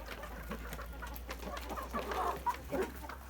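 Liven calico hens cluck softly in short, scattered bursts over low background hum, sounding moderately close.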